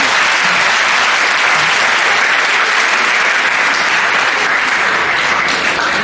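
Dense, steady applause from an audience at a climate change talk, loud and close, filling the whole stretch with no speech over it.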